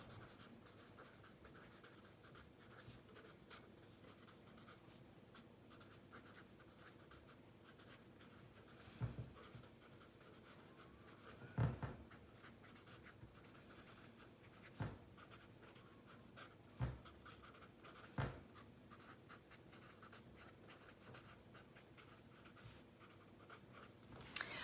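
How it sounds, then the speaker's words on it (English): Writing strokes during a geometry lesson on inscribed angles and intercepted arcs, a faint continuous scratching with a few sharper taps and clicks, heard alone in a quiet room. "I'm going to write that down."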